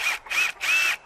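A power drill bores screws into a dog kennel being made into a chicken coop, heard as three close, short whirring bursts separated by brief pauses.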